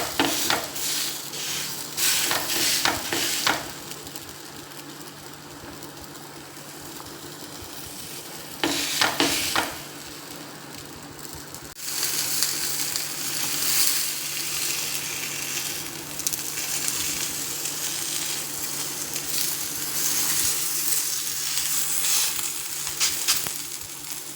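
Masala roti sizzles and fries steadily on an oiled griddle, with a loud, continuous crackle broken by brief bursts of stirring or scraping. No one speaks.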